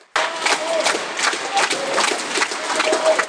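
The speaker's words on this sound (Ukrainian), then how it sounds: "У залі Коломийської філармонії імені Олександра Козаренка не вщухають гучні овації." Loud, sustained ovation from a philharmonic concert hall audience, dense clapping starting abruptly and holding steady throughout, with a few voices mixed into the crowd.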